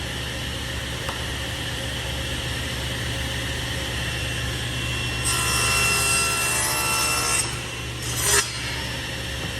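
A table saw rips through wood for keepsake box pieces, a steady broadband whine swelling louder partway through and trailing off with a brief burst near the end.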